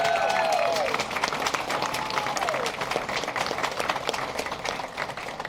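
A crowd applauds an award winner at a Sacramento Regional Transit District meeting, with dense, steady clapping that fills the room and a few cheers and voices rising over it at the start.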